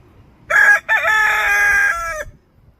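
A rooster on a small farm crows once, loud and close, a clear two-part call of about two seconds standing alone in a quiet outdoor setting.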